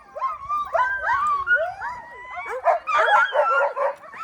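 Sled dogs, a high-energy working breed on a winter farm in Québec, yip, whine and bark excitedly in a near, continuous chorus of rising and falling cries.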